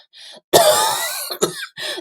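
A man coughs hard during a Ukrainian children's story reading, one sharp close cough followed by a rasping throaty tail, then a second shorter cough and a faint breath, loud against near silence.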